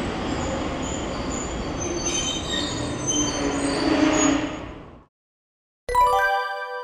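A Toyama Chiho Railway streetcar approaching on city tram tracks, a loud steady rumble of wheels with squealing and rail noise building for about five seconds, then a brief silence followed by a bell-like electronic chime.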